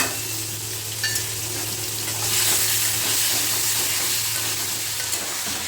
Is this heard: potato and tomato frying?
yes